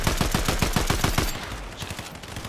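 Rapid automatic gunfire in a video game battle, a fast regular string of loud close shots for over a second, then sparser scattered reports trailing off in a noisier background.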